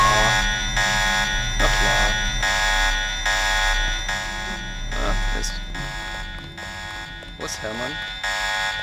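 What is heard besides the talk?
alarm going off in video game Deus Ex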